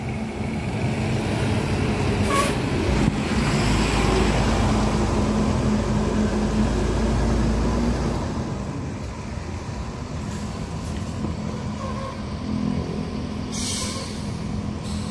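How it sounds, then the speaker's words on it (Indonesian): ANS buses in a convoy pull away from the Muara Bungo intercity terminal, bound for West Sumatra. A loud, steady roar of heavy diesel engines and road noise eases somewhat after the first few seconds, with no talk. "Tanabe menuju Sumatera Barat meninggalkan terminal Kota Lintas Muara Bungo ANS yang kelima"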